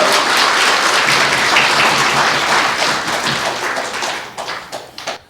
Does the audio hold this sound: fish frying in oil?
no